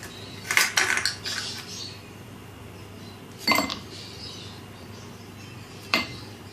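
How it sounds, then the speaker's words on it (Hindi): Ice cubes drop into a serving glass for milk Rooh Afza sharbat, a quick cluster of bright clinks followed by two more separate clinks against a quiet background, with no speech. "आइस क्यूब्स डालेंगे।"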